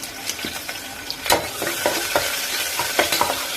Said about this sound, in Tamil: நெய் சூடானதுக்கு அப்புறம் சின்ன வெங்காயம், கருவேப்பிலை,